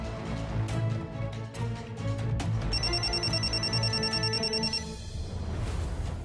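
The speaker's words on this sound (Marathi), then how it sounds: "एक फोन आहे, तेवढा अटेंड करून देतो भरून लगेच" A telephone rings in an office setting, a steady repeating electronic bell tone running through the middle of the clip over a constant low background hum, with no talking.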